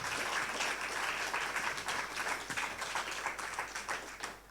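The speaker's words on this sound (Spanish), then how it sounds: "Y pido que le demos un aplauso al Señor por lo que hace en nuestras vidas." Congregation at a Spanish-language church service applauding, a sustained round of many hands clapping that thins slightly toward the end.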